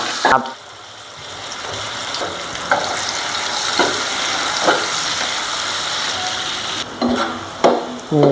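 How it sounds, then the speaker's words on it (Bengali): Potato pieces fry in hot oil for a pabda fish bhuna with coriander leaves, giving a loud, continuous sizzle close by, broken by a few sharp clanks of stirring against the pan. "আলুটা একটু তেলে ভাজতে নেব।"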